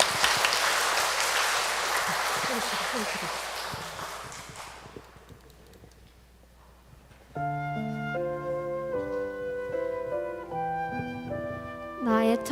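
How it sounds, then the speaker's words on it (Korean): Applause from a church congregation at a children's Mass farewell ceremony, loud and dense at first and then dying away, followed by music playing. "큰 박수 부탁드립니다"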